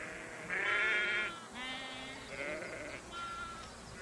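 Sheep bleating in the Abruzzi mountains of Italy: several wavering, nasal bleats from more than one animal follow one another closely, fairly near and clear against quiet outdoor air.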